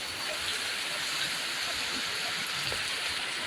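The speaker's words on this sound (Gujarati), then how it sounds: "વરસાદ જો એ આવે છે પણ અત્યારે થોડોક ધીમો પડી જશે" Steady rain falls during a heavy downpour, a dense continuous hiss of water on surfaces with faint scattered drops, fairly close and even in level throughout, with no clear easing within the short stretch.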